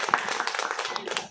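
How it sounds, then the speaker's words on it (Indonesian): An audience at a poetry book launch gives a short burst of hand clapping, with scattered, irregular claps over about a second. "Tepuk tangan buat kita semuanya."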